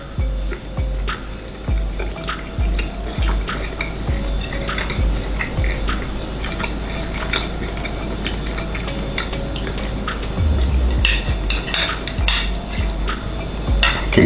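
A fork cuts through tender rotisserie turkey basted with Creole butter on a plate, giving close, repeated metallic scrapes and clinks against the dish in an uneven rhythm, with no voices.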